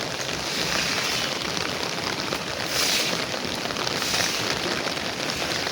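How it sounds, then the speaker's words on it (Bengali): Heavy rain pours down on a rooftop garden as a dense, loud, unbroken hiss with soft swells and no voices. "বৃষ্টি জোরে আসতেছে"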